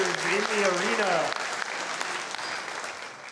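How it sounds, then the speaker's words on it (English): Audience applause for competitors at the Bloomington Chef's Challenge cooking competition, a steady wash of clapping in an arena; a voice speaks over the opening second before the clapping carries on alone, gradually thinning. "Big round of applause for all of our competitors in the arena."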